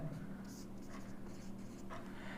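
Pen or marker writing strokes on a board or paper while a geometry proof is set out in a maths lesson, a few faint scratchy bursts over a steady low hum.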